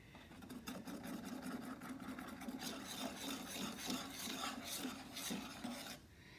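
A spatula scrapes the bottom of a pan of ice cream custard with a soft, continuous rasping, rhythmic strokes over a faint low hum, quiet and close.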